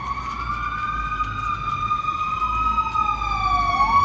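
Fire engine with a Federal siren approaching, a loud steady wailing tone that grows gradually louder as the truck nears, with a rising swoop at the end.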